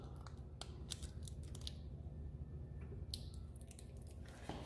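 Tape snipped during an ATV shock rebuild: a few short, crisp cutting snaps and crinkles close by, set against a steady low background hum, with no talking.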